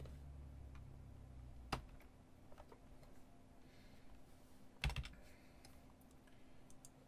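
Keys clack sparsely on a computer keyboard while web page code is written, a few soft taps with two sharper strikes standing out over a steady low hum.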